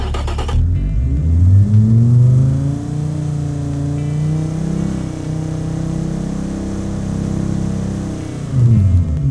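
An inline-five turbo engine in the car-building game Automation revs loudly and steadily, its tone climbing and then holding high for several seconds before falling away, with no talk over it.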